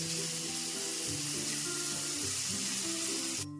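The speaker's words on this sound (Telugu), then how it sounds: "ఒక ఒక నిమిషం పాటు ఈ పక్క వేయించుకుందాం" Paneer pieces fry in a pan with a steady, close sizzle throughout, layered over a low tonal hum, ending with a brief burst of harsher crackle.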